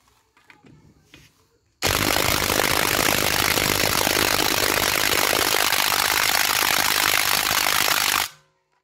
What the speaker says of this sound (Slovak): Ja presne to isté vyskúšam teraz aj na tomto zelenom rázovom úťahováku, ktorý má ale 180 Nm